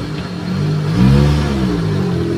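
A car engine revs through its exhaust close by, rising from a steady rumble into a louder, deeper swell around the middle before settling back to a strong idle.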